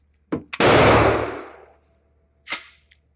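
AR-9 16-inch carbine firing, two sharp close shots with a ringing decay after the second, then another single loud report a couple of seconds later.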